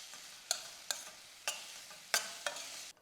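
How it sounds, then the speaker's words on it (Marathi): Boiled cauliflower is stir-fried in a pan with chilli powder and onion-garlic masala. Five or six quick spatula scrapes come in an uneven rhythm over a faint low sizzle, fairly quiet, with no talking. "आता यामध्ये घालूयात मिरची पावडर कांदा लसूण मसाला याला परतून घ्यायचं"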